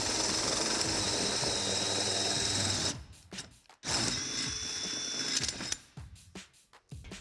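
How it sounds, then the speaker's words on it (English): A drill bores a hole through a Delta EverEdge shower wall panel, a loud continuous whining grind for about three seconds, then stopping and restarting in shorter bursts. "let's go ahead and get that hole drilled."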